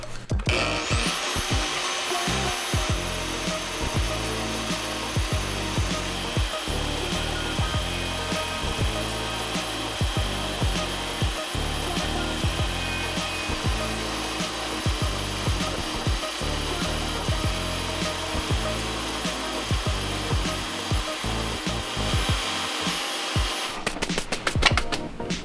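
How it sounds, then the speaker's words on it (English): A bandsaw trims down the edge of a part for an Air Lift 1000 suspension install, running steadily and loudly for the whole stretch with a continuous buzzing cut and no talking. "You're gonna turn the bandsaw on and you're gonna trim it down a bit."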